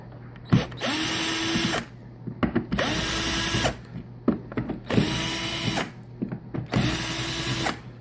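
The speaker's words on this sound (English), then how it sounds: "Now we've got our drill." Four bursts of a power drill whirring at high speed while loosening screws on a four-way valve, each about a second long with short pauses and small clicks between, close by.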